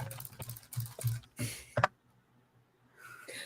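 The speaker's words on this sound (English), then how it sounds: "everyone listen to the sound of my keyboard click for a second" A computer keyboard clicking under light typing, a handful of sharp close taps in uneven rhythm, then quiet.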